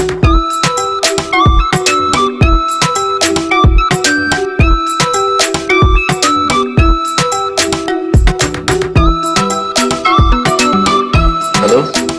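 A melodic phone ringtone plays on a loop, bright repeating tonal notes in a steady rhythm, loud and close, with no voices over it.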